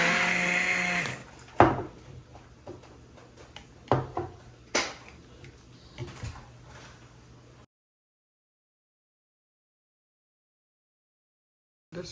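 A Cuisinart hand blender purees diced tomatoes with a loud, whirring motor burst at the start, followed by a few scattered knocks and clicks, then silence.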